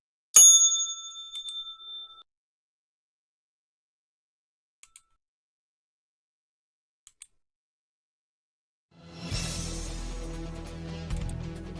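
A single bright bell strike rings out and decays over about two seconds, followed by near silence with a few faint ticks, then music starts.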